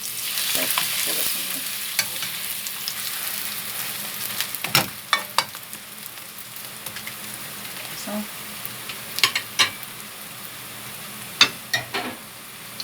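Fish cakes in a pot of soup making a soft, steady sizzling and bubbling simmer with occasional clinks and stirring taps, fairly quiet and close, no talking.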